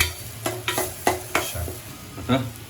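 Crab masala with red chili and garam masala fries and is stirred in a pan. A constant nearby sizzle is punctuated by about six sharp spatula scrapes against the pan.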